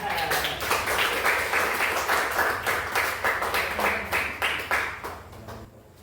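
A classroom of students applauds during a teacher-training lesson, with steady, dense clapping running throughout at a fairly loud, close level, then thinning slightly near the end.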